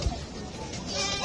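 A goat at a busy cattle market gives a brief bleat, heard over crowd bustle.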